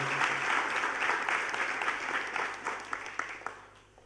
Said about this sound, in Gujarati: જરા વધારે તાળીઓ આપીને